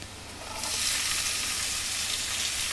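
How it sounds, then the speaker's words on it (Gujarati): Onion and garlic sautéing in a pan for ragda chaat, a steady, close hiss of frying that swells as the onion goes in and keeps sizzling evenly. "ડુંગળીને પણ આવી રીતે સાતળી લેશું."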